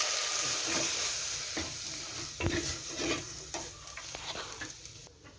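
Ingredients for fish curry sautéing in a clay pot, a continuous sizzle with repeated scraping stirs and utensil knocks, close and steady, easing slightly toward the end.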